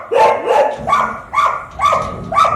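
Yakutian dog at a shelter: five loud, close barks in an even rhythm, alone without talk.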